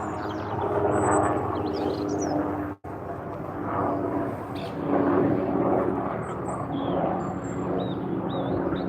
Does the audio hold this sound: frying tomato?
no